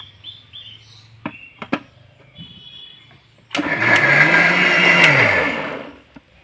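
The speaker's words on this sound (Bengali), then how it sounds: "একইভাবে করে ঢাকনাটা লেগে মিক্সিতে ঘুরিয়ে নেব।" A mixer grinder blending coconut with water, a loud whirring motor roar that rises and then winds down after a few seconds, preceded by lid clicks and handling knocks.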